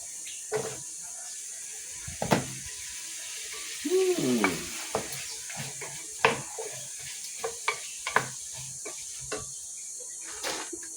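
Sliced sweet potato and moringa pods stirred and sizzling in a pan with tomato, a soft steady fry broken by scraping stirs and clatter, quiet and close.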